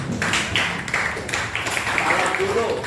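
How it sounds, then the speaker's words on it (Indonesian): A school class at SMAN 63 Jakarta claps after a group presentation, a loose, moderately loud patter of hands that continues steadily for a few seconds, with voices talking over it. "Berikan aplaus."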